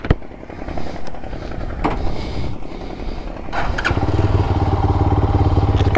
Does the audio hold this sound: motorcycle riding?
yes